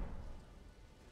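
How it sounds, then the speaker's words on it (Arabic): Rain falling in the video game Elden Ring, a soft steady wash of patter that fades slightly over a brief moment, with no voices. "لكن في مطر مو مشكلة"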